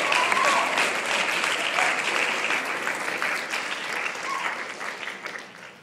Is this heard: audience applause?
yes